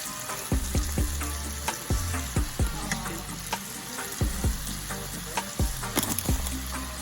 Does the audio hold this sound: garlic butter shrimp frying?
yes